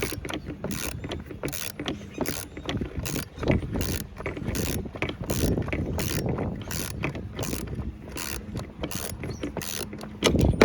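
A wrench spins the pulley off the power steering pump of a 2007 Cadillac DTS, making rapid repeated ratcheting clicks in a steady rhythm close up for about ten seconds.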